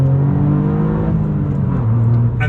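Modified Toyota GR Yaris engine accelerating, a loud close-up rising drone with a brief drop in pitch near the end, no talking.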